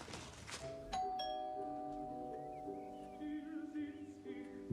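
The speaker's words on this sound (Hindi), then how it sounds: "घंटी बजाओ, अभी भी सो रहे हैं।" A doorbell rings with a clear ding-dong chime whose tones hang and fade, followed by a few softer ringing notes in a quiet room.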